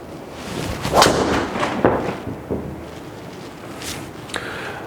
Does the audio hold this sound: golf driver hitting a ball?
yes